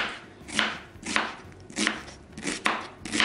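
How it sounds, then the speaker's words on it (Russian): Sharp knife strokes chop through onion on a cutting board, six or so crisp cuts at an uneven, unhurried rhythm, close up with no talking. "Лук я тоже нарезаю не очень мелко."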